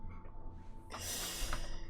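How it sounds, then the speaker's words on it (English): In Nier Automata, a character leans in and sniffs the player with a few close, breathy snorting inhales. A quick sharp intake follows, set over a low hum of game ambience. "Like he sniffs you even though he can't like smell."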